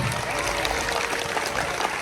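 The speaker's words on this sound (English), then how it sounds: "how about a nice round of applause for the host of today's show, Alex Ross." Audience applause at the Horror Makeup Show at Universal Studios Orlando, a dense, steady wash of clapping and cheering that runs unbroken and fairly loud throughout.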